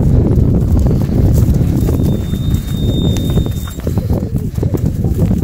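Horse hooves clip-clopping steadily in a close, continuous rhythm, loud throughout with faint background noise and no talk.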